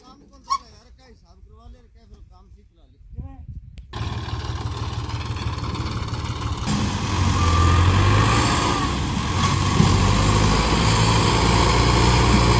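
A tractor engine is heard during a loaded-trolley pulling contest: after quiet moments with voices, the engine catches abruptly, then runs steadily and close by, growing louder partway through.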